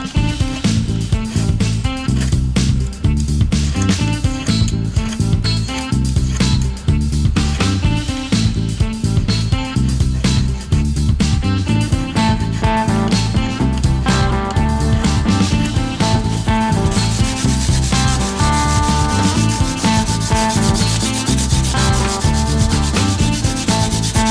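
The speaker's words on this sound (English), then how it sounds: "it enables you to round these fret ends off" A fret end dressing file rubs back and forth over guitar fret ends, close and loud, in a steady fast rasping rhythm of short strokes that continues without a break and without talk.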